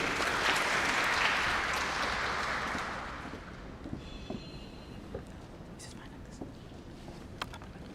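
Audience applause at a graduation ceremony, a broad wash of clapping loud at first that fades over a few seconds into quiet room noise with a few scattered taps.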